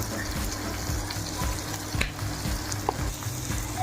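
Spices including garam masala, chili powder and turmeric are stirred in a frying pan for an egg fry, making a steady close sizzle with soft scraping strokes throughout.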